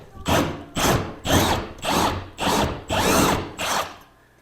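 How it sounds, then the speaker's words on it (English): A power drill bores up into a high ceiling from scaffolding in seven steady, loud bursts of about half a second each, separated by short pauses, close by with no talk. "let's just finish drilling that all the way up"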